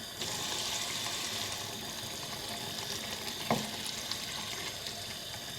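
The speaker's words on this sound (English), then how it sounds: "Now bring this to a simmer over medium heat." Egg curry simmering over medium heat, a faint, even bubbling hiss with one brief knock partway through and no talking.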